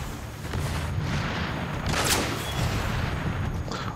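Sniper rifle fire in the Transformers: Rise of the Dark Spark video game on PS4, a dense, continuous clatter of gunfire and booms with one sharp burst near the middle and no talk.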